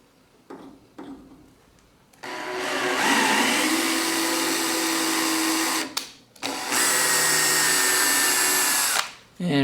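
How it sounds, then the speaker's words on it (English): A tap being driven by a power drill into a tap-drilled hole in a Husky cabinet drawer extender: a steady, loud whirring drone of roughly four seconds, a brief stop, then a second sustained run, both up close and without talk. "now the tap drill's through, we can put the tap through"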